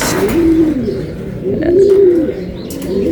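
Racing pigeons coo close by in two soft, rolling throaty phrases over a short stretch, with faint background noise.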